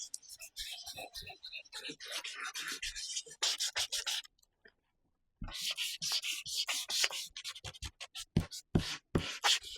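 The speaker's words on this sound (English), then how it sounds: "I sanded." Hand sanding a wooden surface to distress it, a close raspy scrubbing in quick irregular back-and-forth strokes, pausing briefly midway before resuming.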